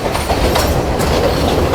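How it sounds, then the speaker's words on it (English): A passenger train rolling through forest in Sri Lanka, heard from on board as a loud, steady rumble with rhythmic clickety-clack of the wheels on the rails. "we're now actually riding the train through the woods"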